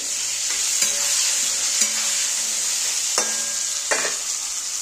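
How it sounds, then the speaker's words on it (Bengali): Potatoes and tomatoes frying in a pan for a Bengali katla fish curry, a steady close sizzle with a few sharp scrapes of stirring spread through it, no voices. "এবার দেবো টমেটো, এটা দিয়ে একটু ভেজে নিই।"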